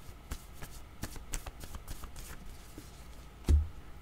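Playing cards for a card reading are shuffled and drawn by hand, a close run of soft riffling flicks and taps ending in a louder thump, with no talk.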